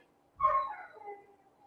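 A single short, whiny bark from a dog shut in a bathroom, heard faint and somewhat distant, fading off with a muffled tail.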